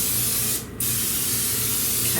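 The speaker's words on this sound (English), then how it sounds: "And I'm going to spray the inside of my slow cooker." Non-stick cooking spray hisses from an aerosol can inside a slow cooker, one steady spray of about two seconds, close and fairly loud, with no talking.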